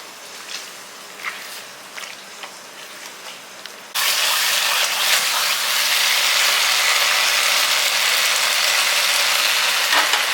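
Peeled cooked tomatoes are mashed by hand, soft wet squelching and scraping that begins faintly and turns into a continuous, louder close mashing for the second half of the clip.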